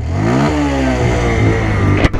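A 2024 Bajaj Pulsar 125 motorcycle starts on the first try and its engine revs up with a rising, close, loud note, ending in a brief clatter.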